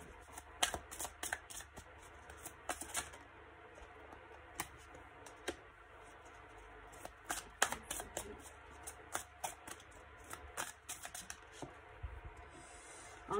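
Oracle cards shuffled by hand, a quiet, close run of quick riffling flicks and soft taps in irregular bursts through the whole stretch, with no voices.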